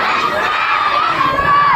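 A crowd at a Jan Suraaj political rally shouts the slogan together in one loud, sustained, cheering chant.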